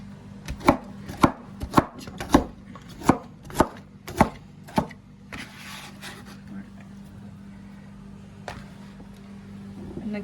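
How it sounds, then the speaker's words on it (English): A knife chops vegetables on a cutting board for a vegetable cheese soup, about ten crisp, evenly spaced strikes close up in the first half, then the board goes mostly quiet with soft handling noises. "Cut it in half. Cut it in 4 pieces."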